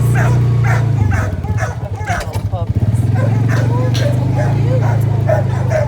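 Deer hunting dogs bark repeatedly in a kennel area, a steady chorus of close yips and barks over a continuous engine hum, with someone talking over them.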